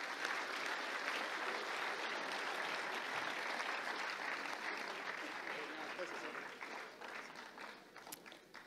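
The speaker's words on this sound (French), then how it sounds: "On peut les applaudir, félicitations" Sustained audience applause fills a closing ceremony of the French chess championship at Alpe d'Huez, a dense, steady wash of many hands clapping at moderate distance that thins slightly toward the end, with faint voices mixed in.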